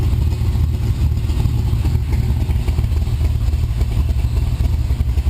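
A 1967 Corvette with a 427 Tri Power engine idles, giving a steady, loud, rumbling low throb with a slightly uneven lope, heard close and alone.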